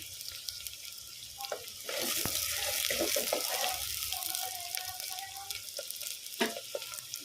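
Cooking in a long-used, hardened clay pot on a stove while making Sunday mutton curry: steady sizzling and frying with stirring scrapes and clinks, a louder burst of hiss partway through, all close and without talk.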